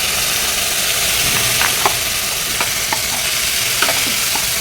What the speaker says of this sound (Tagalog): isunod na rin natin itong hulog ang ating chicken